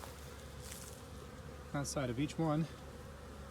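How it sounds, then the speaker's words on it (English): Honey bees fly around the landing boards of small nucleus hives in a bee yard, giving a couple of brief, near buzzing passes over steady faint background hum. "bees coming and going in orientation flights"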